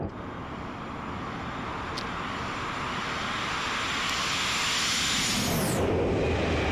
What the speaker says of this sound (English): FlyJsim did an amazing job modeling the sound of those engines for sure.